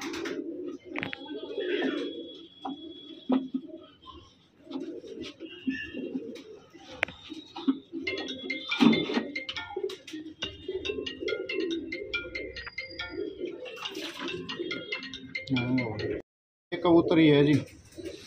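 Pigeons coo in soft, repeated low throaty calls, with scattered chirps, rustling and a person talking over them at moments.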